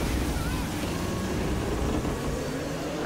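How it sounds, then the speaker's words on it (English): Strong tropical cyclone winds gusting at around 75 to 80 miles per hour roar loudly and continuously, a dense, steady rush buffeting the microphone with no break. "when you have winds like this, probably 75, 80 miles per hour here, maybe more than that in gusts"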